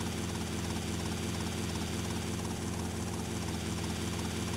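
Helicopter in GTA Vice City, a steady close rotor chop and engine drone that holds without a break.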